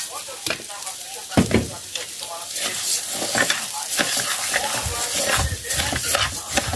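Cooked rice is stirred into a hot frying pan with egg, giving a continuous sizzle with scraping spoon strokes and occasional louder clacks, close and steady with no talking.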